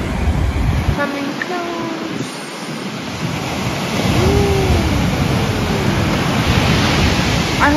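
Ocean waves wash up onto Kolko Beach in Sydney, a steady broad rush of surf filling the whole scene, close and continuous, with some faint tonal sounds early on.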